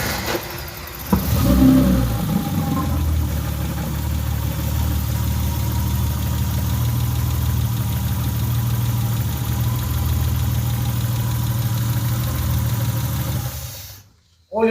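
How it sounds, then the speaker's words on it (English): A BMW E30 car engine turns over and settles into a steady, loud idle that runs for over ten seconds before cutting off abruptly. "Here's my ignition on."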